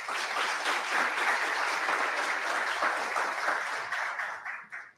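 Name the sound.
audience applause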